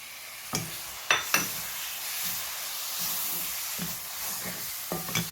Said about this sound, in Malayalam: അപ്പോൾ നമ്മൾ ഈ ചോപ്പ് ചെയ്ത് വെച്ചിരിക്കുന്ന തക്കാളി ഇതിലേക്ക് ഇട്ടിട്ട് വഴറ്റി കൊടുക്കാം